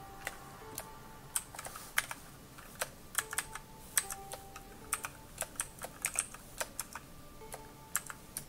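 A password is typed on a computer keyboard, steady clicking keystrokes at an uneven pace with brief pauses, close and fairly quiet.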